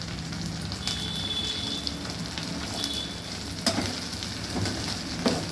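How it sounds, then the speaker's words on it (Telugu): Masala frying in a pan before spinach is added, a continuous close sizzle with occasional spoon scrapes and taps against the pan, no voices present. "పచ్చి వాసన పోయేదాకా వేయించుకోవాలి సార్"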